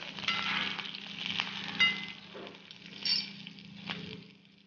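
Fenugreek seeds roast in a small amount of oil for tempering a raw mango chutney, a soft, steady sizzle with a few light clinks of a utensil against the pan, quiet and close.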